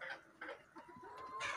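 A hen gives soft, intermittent clucks at low volume, with short murmuring calls spread through a quiet stretch.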